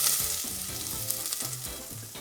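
Onions hitting hot oil in a pot sizzle steadily and loudly up close, with a dense continuous crackle and occasional clinks, no voices.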